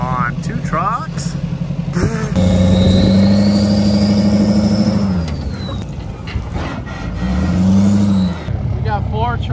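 Several trucks rev loudly and strain together in a tug-of-war against Monstermax, their engines rising into a sustained roar and easing off before surging again, with shouts and talk around them.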